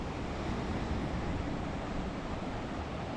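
Sea waves roll onto Arambol Beach in Goa at high tide, a steady broadband surf roar with some wind, continuous and fairly close with no talk.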